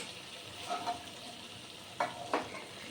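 Peas being stirred into a pan of cooking ghugni with potatoes and spices, a soft steady sizzle with a few brief scraping strokes from a spoon.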